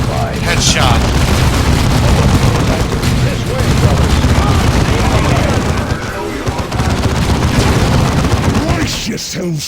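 Grenade blasts and battlefield gunfire from the Warhammer 40,000 strategy game Dawn of War 2, a dense, continuous roar of explosions and shooting with shouted unit voices mixed throughout.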